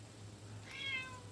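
A cat meows once, a faint rising-and-falling mew at close range over a steady low background hum, with no talking.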